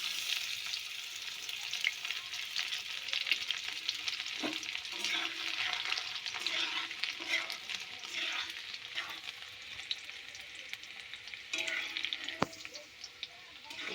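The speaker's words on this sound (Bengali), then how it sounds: "রসুনটা একটু হালকা ভেজে নেব।" Chopped garlic fries in hot oil in a wok with cardamom for a Bengali aloo dum, a dense continuous sizzle with occasional soft stirring knocks, fairly close and even in level throughout.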